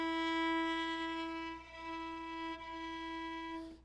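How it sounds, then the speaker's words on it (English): A viola bowed too close to or over the fingerboard gives a thin, airy, weak sustained tone, one long steady note, close and alone with no talking. "And if you get too close to the fingerboard, you get a weak sound."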